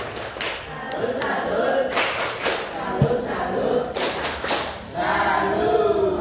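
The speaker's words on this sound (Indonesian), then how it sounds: "Kasih tepuk salut dong." A group of people gives a rhythmic salute clap in a school training classroom, with patterned bursts of clapping and chanting voices mixed in.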